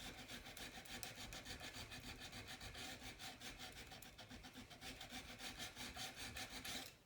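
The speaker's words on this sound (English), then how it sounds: "carefully sanding that out of there" A gunstock is hand sanded to inlet a Mauser M98 action in 9.3x62, giving a close, quiet run of steady rhythmic rasping strokes with no speech.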